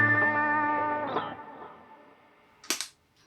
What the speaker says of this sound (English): Pinch harmonics can sound like this.